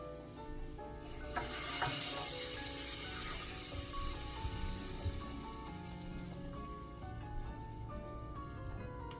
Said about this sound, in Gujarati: આ પ્રમાણે ઉપર આપણે વઘાર રેડી દઈશું.